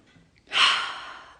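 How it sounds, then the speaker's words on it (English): A single deep inhaled breath during a guided forgiveness meditation, a close, soft airy intake rising quickly then slowly fading, alone in a quiet room. "Deep breath in."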